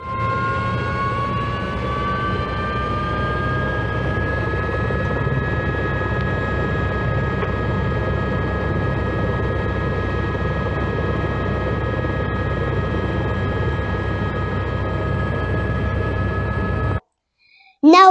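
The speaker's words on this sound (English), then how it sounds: "we are inside the helicopter and we have taken off." A tour helicopter with passengers aboard, heard from inside the cabin, drones with a loud steady turbine whine and rotor rumble as it lifts off and climbs, then cuts out abruptly near the end.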